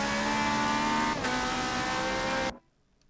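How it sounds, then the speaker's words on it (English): Loud, steady Ferrari race car engine roar at high revs in the Forza Motorsport 7 video game at Indy GP, a brief gear shift midway, then cutting off abruptly into near silence. "that Ferrari sounds horrible"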